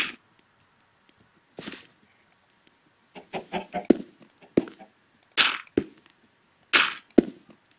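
A chicken clucks in short, scattered bursts, several quick clucks and a few louder squawks, close by and fairly clear against a quiet background with occasional small knocks.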